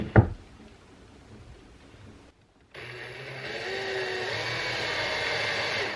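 A power drill countersinking a screw hole in wood at a workbench, a steady whirring hum that runs after a knock and a brief pause.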